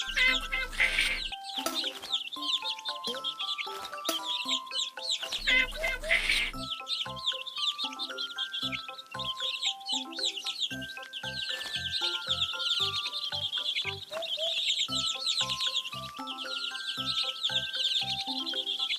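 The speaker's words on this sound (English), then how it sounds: "Feed the hungry baby birds with some seeds" Hungry baby birds in a nest being fed seeds give off a busy stream of high, rapid cheeping and clucking chirps over a repeating cartoonish musical backing.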